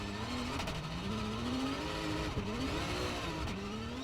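Porsche rally car racing along a worsening gravel stage in a Belgian rally, engine note rising and falling steadily with shifting revs and a brief skid, continuous and fairly close throughout.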